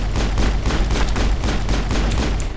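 Rapid automatic gunfire from the video game Mass Effect bursts in a dense, loud fusillade of overlapping shots with a heavy low rumble, continuing without pause.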